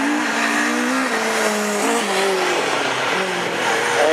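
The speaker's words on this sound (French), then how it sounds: "Torel sur la Citroën C4 qui prend l'excellent départ" Rallycross race cars, including a Citroën C4, launch together at a French championship start, engines roaring continuously with rising and falling revs and tire squeal throughout, loud and close.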